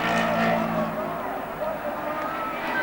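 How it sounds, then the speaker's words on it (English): A 1970 Formula One car at the British Grand Prix limps toward the finish line, its engine a steady mid-level drone that dips slightly, with a faint voice underneath. "Brabham trying to limp the car over"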